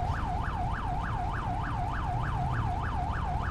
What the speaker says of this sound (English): They're just running sirens over here the entire time